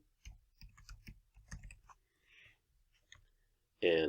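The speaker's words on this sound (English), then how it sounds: "I'll go through here to finish typing this out." Quick bursts of keyboard typing, clustered taps with short pauses between them, close and fairly quiet, ending with a brief sharp sound.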